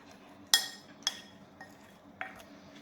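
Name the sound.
spoon mixing baking powder, baking soda and cinnamon in a bowl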